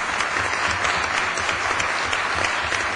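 Council members in Florence's city council chamber applaud together, a dense, steady wash of many hands clapping throughout, fairly loud and even, with no speech.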